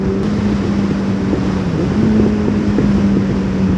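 Suzuki Bandit motorcycle engine idling close by in a steady low drone, with small blips and wobbles in pitch and wind noise over the microphone.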